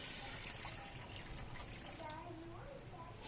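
Water poured into a cooking pot for a patola and wild mushroom soup, a steady close splashing pour that runs the whole time under a soft voice.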